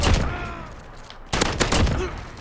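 FAL battle rifle fired in the shooter game Modern Warfare, a loud close volley of heavy shots, then a short pause and a second quick string of booming reports.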